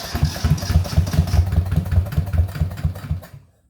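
The diesel engine of a 1980 Yanmar YM1500 tractor, freshly bled of air, sputters and chugs loudly up close with throttle, a rapid uneven knocking pulse that cuts out after about three seconds.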